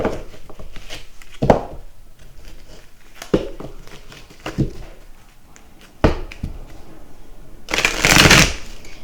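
Close, loud card shuffling: a few separate sharp riffles spaced apart, ending in a longer, brighter burst of cards.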